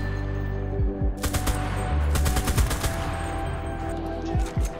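Gunfire from the World War II shooter video game Enlisted, with rapid bursts of automatic shots and scattered single cracks over a steady low hum, no talking.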